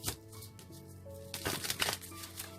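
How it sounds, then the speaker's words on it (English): Tarot cards are shuffled in quick riffling bursts, close and fairly soft, over faint background music. "3 more shuffles, they say."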